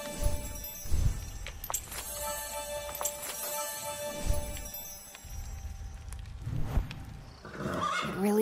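In a video game, a wounded horse neighs and whinnies in several loud cries over steady background game sounds, with no voices.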